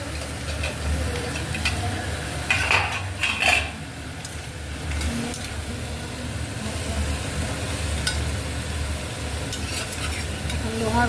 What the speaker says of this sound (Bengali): লোহার কড়ায় রান্না হচ্ছে।